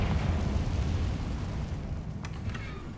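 A Confringo spell explodes in the Hogwarts Legacy video game: a loud, broad rumbling blast that rolls on for a few seconds, with sharp crackles near the end.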